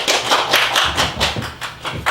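An audience at a 5.18 memorial concert claps loudly in a steady, rhythmic burst of applause lasting a couple of seconds, close and full.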